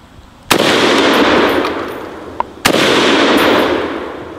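Two loud, close rifle shots from a Galil in .308 (7.62 mm) crack about two seconds apart, each leaving a long ringing echo outdoors.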